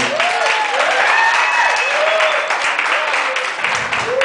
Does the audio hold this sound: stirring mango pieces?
no